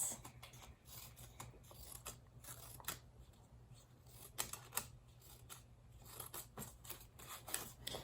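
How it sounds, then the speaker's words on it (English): Small, quiet snips of scissors cutting fringe slits into a small piece of paper, a quick irregular series of crisp clicks close by with no talking. "just get a small piece of paper and just cut some fringe, little slits like this"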